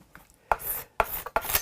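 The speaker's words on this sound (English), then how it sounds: "now a scraper is one option. That'll just scrape away." A hand scraper rasps across the nitrocellulose finish of a Gibson Les Paul guitar in three short, sharp strokes, each a close gritty scrape with a brief quiet gap between them.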